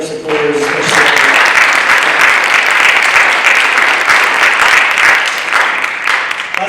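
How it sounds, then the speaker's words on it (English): Sustained audience applause fills a hall at a spring STEM capstone presentation evening, a dense, loud wash of many hands clapping that swells in and holds steady for several seconds before easing slightly. "a big round of applause for all of our supporters"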